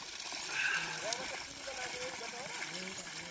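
Water gushes steadily from a large stone water spout, a continuous close rush heard under people talking.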